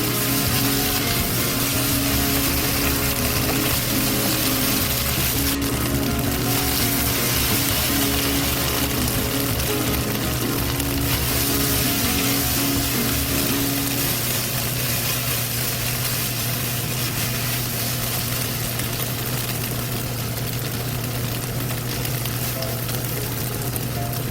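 Vegetables and sausage stir-fry in oyster sauce in a pan, a loud dense continuous sizzle with a low steady hum underneath, close and unbroken, with no voices.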